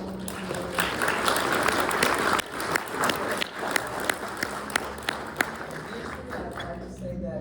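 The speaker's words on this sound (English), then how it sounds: "I'd like for you to join me in giving a round of applause to the panel." A small-business seminar audience claps for the panel, scattered and moderately dense clapping with individual sharp claps standing out, accompanied by background talking and shuffling.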